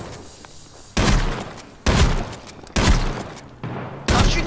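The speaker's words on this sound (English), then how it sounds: "Stop shooting your teammate!" Five heavy, evenly spaced gunshots boom close and loud in H1Z1, each followed by a short decaying tail, with quiet gaps between.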